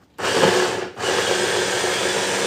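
A blender whirs loudly, chopping ten medium potatoes with onion for potato pancakes; it starts abruptly, dips briefly as if pulsed, then runs on at a steady, dense whine.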